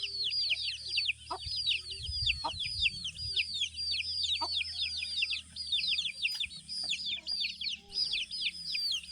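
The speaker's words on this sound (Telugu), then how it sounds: "ఇదిగో పెట్టలు చూడండి" A flock of hens and chicks clucks and chirps continuously, with a low engine-like hum and a brief scuffling noise early on.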